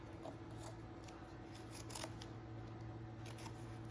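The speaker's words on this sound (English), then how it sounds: "just take a razor knife, cut some of this filter element out of here." Razor knife slicing through an air filter element, a soft, scratchy cutting sound with a few brief sharper snips, close and fairly quiet, with no talking.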